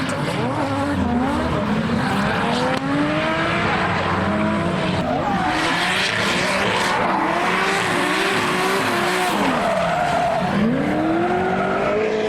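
A modified car spinning out at a car show, with a loud, sustained engine roar and long wavering tire squeals that rise and fall throughout as the car slides, close and continuous.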